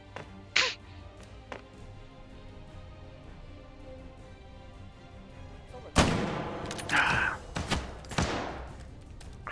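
Gunshots in the VR shooter H3VR, in a WW2 Take and Hold match, fire as scattered, sharp cracks: a few isolated shots, then a louder cluster of rapid reports amid background noise.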